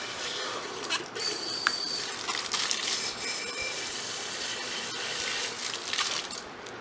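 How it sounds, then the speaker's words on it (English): A tap runs steadily for several seconds, a bright, continuous splash of flowing water close by, with a few faint clinks and shuffles over it and no speech. "I want to be able to see the water coming out"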